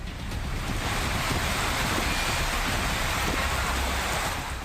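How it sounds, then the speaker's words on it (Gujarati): Heavy unseasonal rain pours down steadily over Matar in Kheda district, where water is collecting on the roads. It makes a dense, continuous roar with no breaks and no voices. "ધમધોકાર વરસાદ વરસી રહ્યો છે"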